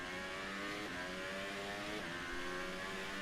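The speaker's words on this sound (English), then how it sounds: "hard on the brakes, the car shifted down." An F1 2018 race car in the video game brakes hard at the Bahrain Grand Prix, its engine whine dropping in steps as it downshifts twice, a continuous close, buzzing drone.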